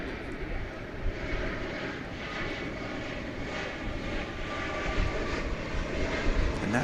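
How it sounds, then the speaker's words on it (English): An American Airlines Boeing 777-200ER jet arriving from Paris at Dallas Fort Worth airport, its engines a loud, steady roar that grows slightly toward the end, with no voices. "Flight 49, American Airlines, coming in from Charles de Gaulle Airport in Paris, France. That'll be a 777-200."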